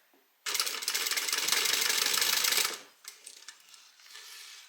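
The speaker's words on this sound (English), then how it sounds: "basically we're just top stitching all of this together" A sewing machine runs fast and steady, top stitching layers of fabric with a 1/8 inch seam, a loud close mechanical whir for about two seconds, then stops and is followed by softer handling clicks.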